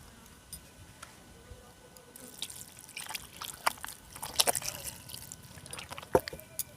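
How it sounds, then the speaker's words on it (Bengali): Water is poured into batter for ripe palm fritters in a kitchen, giving soft trickles and drips with scattered light splashes that grow a little busier partway through, fairly quiet and close. "এখন দিয়ে দেবো পরিমাণ মতো জল।"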